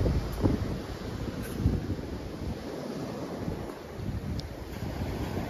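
Surf and wind fill the scene at Cát Cò 3 beach on Cát Bà island: a continuous broadband wash of breaking waves with gusts of microphone wind noise, moderately loud and unbroken, with no voices.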